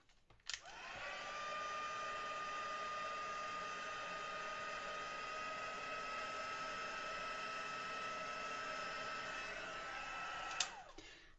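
A hair dryer blows on a watercolour pencil flower painting, switched on with a click and then running as a steady even whine for about ten seconds before clicking off.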